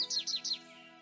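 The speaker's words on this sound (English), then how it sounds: "American goldfinch." An American goldfinch call in a video game, three quick bright chirps in a row, clean and moderately soft, over a faint tonal hum that lingers after.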